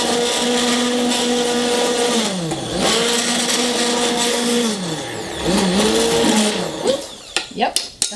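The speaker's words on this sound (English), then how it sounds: "Put your stick blender in, burp it a little bit" A stick blender whirs steadily in a batch of cold-process lye soap, loud and close, its motor pitch dipping and recovering as the load changes before cutting off into clatter, with talking over it.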